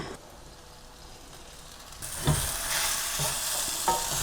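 Cooked, soft potatoes are stirred in a pan, starting quiet and then moving into a steady sizzle with scraping stirs and a couple of sharper knocks, close up with no talking.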